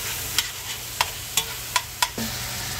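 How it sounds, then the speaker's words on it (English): Bacon fries in a pan with a soft, continuous sizzle, while a utensil taps and scrapes it every half second or so, close and moderately quiet. "Then you add your bacon in, and you make sure your bacon is broken apart really good and cook it till it's condensed, cooked down."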